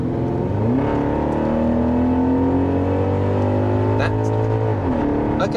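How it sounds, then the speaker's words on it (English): BMW X5 4.8i with the N62 V8 accelerating hard in sport mode, engine note climbing steadily through the revs with smooth shift dips, loud and heard from inside the cabin. "I might pop it into sport mode and just see how it pulls."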